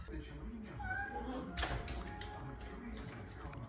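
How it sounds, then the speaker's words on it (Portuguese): A cat meows faintly under a dense, noisy mix of background sound and music, short and partly masked. "Que gato esperto."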